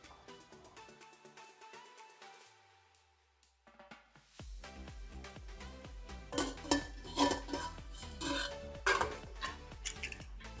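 Soaked chickpeas mixed with water and salt in a metal pressure cooker container, with a spoon clinking and scraping in quick repeated strokes that grow louder and busier.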